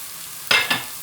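Beans curry with salt, chili paste and coriander powder being fried and stirred in a pan, with two short sizzling scrapes close by against a quiet background.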